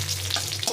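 Bay leaf, five-spice and fenugreek seeds fry in hot oil in a pan, giving a steady, close sizzle with a low hum underneath and faint stirring scrapes, and no one speaks.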